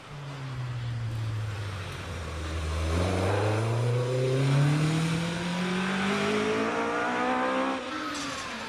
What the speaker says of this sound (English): As on the line is the Chevron B19. This is time in the hands of Richard George. Away he goes